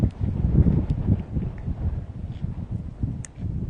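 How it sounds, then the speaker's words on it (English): Strong gusting wind batters the microphone on a Hawaii coastline, producing a loud, continuous low rumble and buffeting that swells and dips throughout, with no voices. "Not like it's possible to block this wind."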